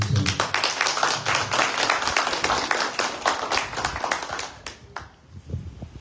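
An audience claps for the school director's wife at an honor ceremony for a lycée director, steady dense applause that thins and fades toward the end with a few stray claps.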